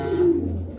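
Racing pigeons give a brief, close, low throaty coo in one short burst, with no voices over it.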